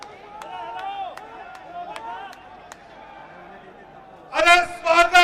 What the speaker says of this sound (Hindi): जोरदार तालियों से हम आदरणीय प्रधानमंत्री जी का स्वागत करेंगे।